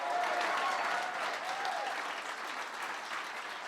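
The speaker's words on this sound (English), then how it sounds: "Give Elijah a big round of applause." A crowd applauds at a presidential early education summit, a dense, steady clapping that stays loud throughout and eases slightly toward the end.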